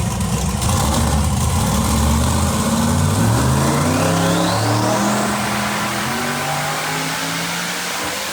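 A methanol-fueled Chevrolet Camaro roars through a full-throttle pull, its engine note climbing steadily in pitch as it revs hard, loud and close, with no talking.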